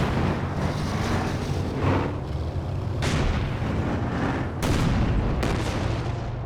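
Katyusha rocket barrage in the strategy game Company of Heroes 2, a dense rumbling roar of launches and explosions with several sharp booming impacts cutting through the continuous battle noise.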